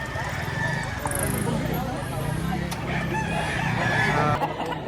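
A rooster crows somewhere in the background while someone talks steadily over a noisy outdoor crowd at a gamefowl sale in Batangas.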